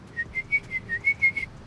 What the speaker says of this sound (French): Vous sifflez la nuit, comme on le fait.